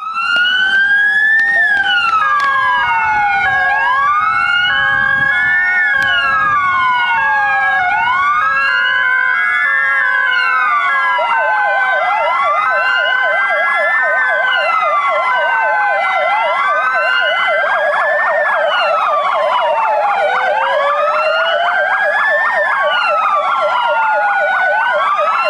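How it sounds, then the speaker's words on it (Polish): Several air raid sirens wail across a Polish city during a one-minute commemorative alarm, rising and falling out of step and overlapping in a continuous loud drone; no voices. "w mieście rozległ się minutowy dźwięk syren alarmowych"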